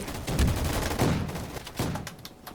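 Rapid, dense gunfire fills a Roblox video game battle, with loud, close bursts of shots repeating continuously and no talk.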